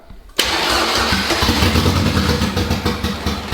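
A boosted Honda Civic with a K20 engine fires up after silence, bursting into a loud, rough, close engine roar that holds steady with slight surges.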